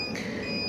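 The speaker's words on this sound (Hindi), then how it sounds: "साथ में बीप की आवाज़, ओवरलोड की आवाज़ आ रही है।" Warning beep from an inverter/UPS under about 2180 watts of overload during a Microtek, Luminous and Eastman inverter comparison, a steady high tone running continuously throughout over a low electrical hum.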